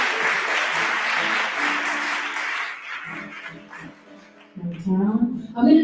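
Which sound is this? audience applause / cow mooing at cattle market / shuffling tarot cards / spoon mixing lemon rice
audience applause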